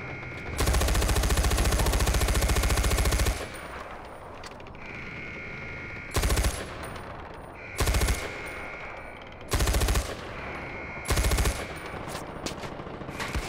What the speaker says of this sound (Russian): Не зря тут пулемет, не зря тут пулемет.